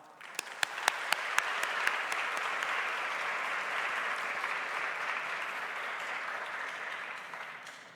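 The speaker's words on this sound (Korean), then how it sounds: "동안의 박수로 환영하겠습니다." A few scattered claps quickly swell into full, sustained applause from a church congregation at a Sunday service, holding steady before tapering at the end.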